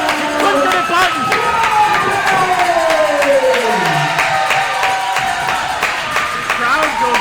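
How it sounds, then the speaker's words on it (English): A wrestling crowd at an indie show roars and claps after the match ends, a loud sustained swell of cheering and applause with scattered shouts that eases slightly toward the end. "The crowd goes wild on that."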